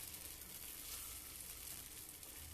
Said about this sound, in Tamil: இப்போ அடுப்பில் குழிப்பணியார சட்டியை வச்சு எண்ணெய் சட்டி காஞ்சோன்னே இதில் மொண்டு ஊற்றி வைக்கிறோம்.